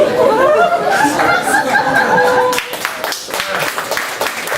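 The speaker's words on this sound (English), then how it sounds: "I'm glad you're clapping." Stand-up comedy audience in a Phnom Penh club breaking into applause mixed with laughter and chatter, a dense burst of clapping that thins out after a couple of seconds into scattered claps under a voice.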